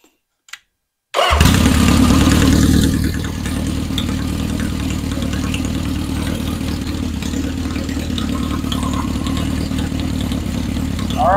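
A 1977 Honda CB750 chopper with carburetors being adjusted is kicked into life after a couple of brief clicks, catching with a loud burst and then settling into a steady, even idle up close, without talk.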